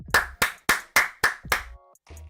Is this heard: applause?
yes